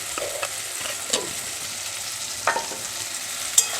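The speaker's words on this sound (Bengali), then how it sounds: "এবার আমি ভালোভাবে ভেজে নেব।" Spiced food with turmeric and a little sugar fries in a pan, a steady soft sizzle broken by several sharp scrapes and clicks from a stirring spoon.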